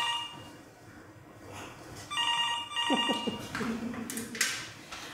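A telephone rings in an office: an electronic ringtone with bright, repeated tones sounds at moderate level partway through, set against quiet room noise and brief scuffling.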